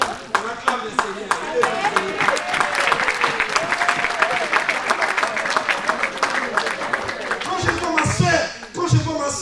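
A church congregation claps and cheers in praise, steady loud applause filling the room with voices mixed in, tapering off near the end.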